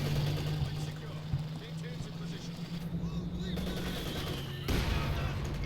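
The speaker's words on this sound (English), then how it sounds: "Mortar shot." A mortar shell fired and landing near a machine gun position in the Company of Heroes 2 strategy game: muffled booms and battle noise rumble under a caster's steady commentary.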